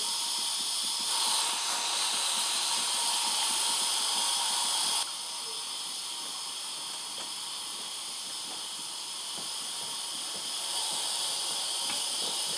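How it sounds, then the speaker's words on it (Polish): A loud, steady hiss of steam escaping from a WMF Perfect pressure cooker cooking beef goulash, continuous throughout, dipping slightly in strength midway before rising again. "Powoli, powoli odpuszczę parę, zmniejszę ciśnienie w tym garnku."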